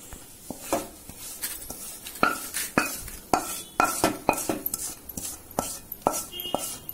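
A spoon stirs and scrapes through puffed rice mixed with a roasted red chili and oil mixture for Kolhapuri bhadang, giving rhythmic, close metallic scrapes and rustling crunches.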